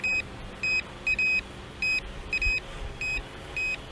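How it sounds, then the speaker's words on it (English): A Potensic T25 GPS drone gives a series of short electronic warning beeps in irregular clusters, clear and high-pitched over a faint low background hum. "We'll cancel all these beeps when we get it back on the ground."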